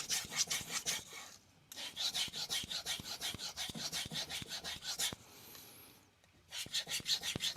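A Nakamura Hamono 150mm Shirogami 2 Santoku is stroked back and forth across a coarse King 300 whetstone, producing rhythmic wet rasping passes in close, steady bursts with two brief pauses between sets.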